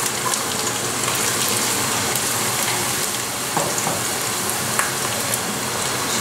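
Chopped onion fries in hot oil in a pan with a loud, dense, continuous sizzle and crackle, steady throughout with small pops and no voices.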